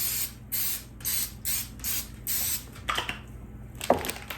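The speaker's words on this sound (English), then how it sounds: "We're gonna give this pan a good spray." Cooking spray hisses onto a pan in six even, evenly spaced bursts, close and fairly loud, followed by a few soft clinks and handling noises.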